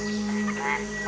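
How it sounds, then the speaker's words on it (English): Male frogs calling in competition with one another, a dense chorus of steady tonal croaks and trills from several animals layered over a continuous hum, fairly faint and distant throughout. "In competition with other male frogs, the vocalizations increase"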